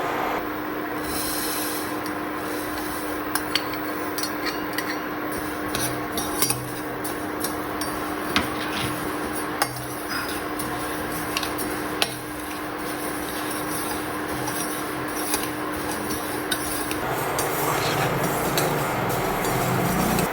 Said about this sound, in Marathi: तसेच आता आपण तीळ पण थोडेसे परतून घेऊयात